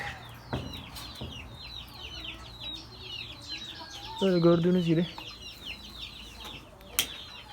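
Chickens and a rooster cluck softly and continuously in a coop while someone speaks briefly in Turkish, with a louder drawn-out squawk rising midway.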